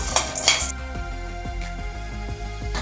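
Chana dal being dry-roasted in a pan for idli and dosa podi, with a few sharp metallic clinks of a utensil against the pan up front, then soft rhythmic scraping and stirring, close by.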